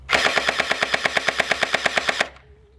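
A hydrogel M4A1 toy rifle fires a rapid full-auto burst of about twenty evenly spaced, close, sharp cracks lasting around two seconds, followed by a faint mechanical whine.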